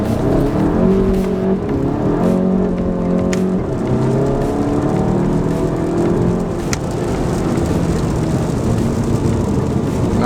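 A Volkswagen Golf GTI hot hatch accelerates hard with a steady, loud engine drone that rises through the gears, heard from inside the cabin with no talking.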